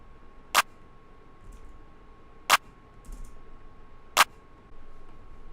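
Three sharp, layered clap hits land evenly spaced about two seconds apart over a faint steady hum, crisp and close.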